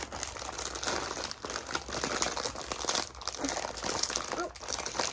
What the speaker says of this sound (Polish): Nie mogę tego otworzyć.